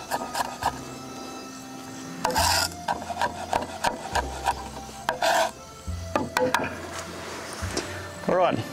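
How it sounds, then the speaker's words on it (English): A knife chopping homegrown chilli and garlic on a board: irregular bursts of close, crisp chops and scraping against wood, with pauses between. "Chilli and garlic's all chopped up."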